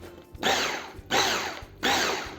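An electric mixer whirs through banana chocolate cake batter in three short bursts, each lasting about half a second, with brief quiet gaps between them.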